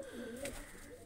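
Pigeons cooing at a rooftop loft during rain, a soft, near rounded coo that rises and falls under a steady hiss of background noise.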